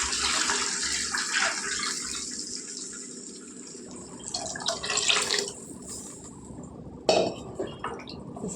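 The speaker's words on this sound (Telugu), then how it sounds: "దానికి 4 గ్లాసులు నీళ్ళు వేసుకుంటున్నాను" Water is poured from a glass into a pan for making rava upma, splashing and gushing in several short bursts, with a metallic clink of the vessel between pours.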